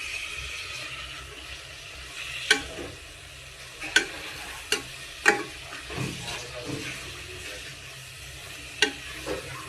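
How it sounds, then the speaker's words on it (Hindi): Chopped tomatoes frying in a pan for a home-style chicken curry, with a steady soft sizzle broken by scattered sharp clicks and scrapes of a spatula stirring, fairly close and with no talking. "तापरे टमाटो मेल्ट हवा पर्यंत या भाजवा।"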